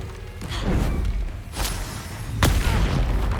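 In Hogwarts Legacy, a Stupefy spell strikes with a series of muffled booms and thuds; the sharpest hit lands near the end over a low, rumbling game soundscape.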